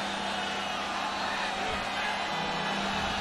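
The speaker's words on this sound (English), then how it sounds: "credit the crowd that's still here in a 52-0 game, making some noise on third down" Stadium crowd at a college football game between Long Island and West Virginia, making noise on third down in a lopsided contest; a steady, dense roar of voices holds at an even level for the whole stretch.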